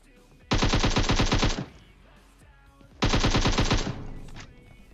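Two loud bursts of rapid automatic gunfire in the game PUBG Mobile, each lasting about a second, separated by a short pause with faint background noise.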